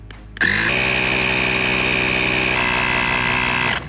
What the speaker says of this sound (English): Now let's test out the air compressor on this.